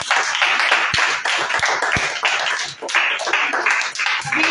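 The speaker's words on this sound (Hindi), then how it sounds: "आइए हमारे खादी का स्वागत करेंगे ताली बजा के।" Hands clap in a brisk, continuous rhythm as a congregation applauds during a church worship service, steady and fairly loud with a few sharp individual slaps standing out.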